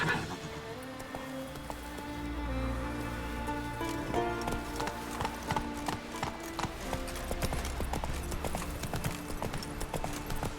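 Horse hooves galloping in the video game The Witcher 3, a rapid continuous clip-clop rhythm with a whinny, heard alongside game music throughout.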